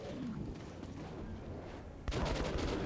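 Gunfire in the video game Metro: Last Light breaks out suddenly after a quieter stretch, with a loud, dense burst of shots near the end.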